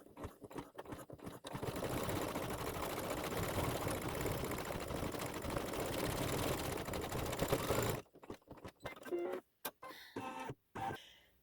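A sewing machine runs a continuous stretch of stitching with sparkly thread on a Santa's workshop quilt block, steady and close, then stops into short start-stop bursts near the end.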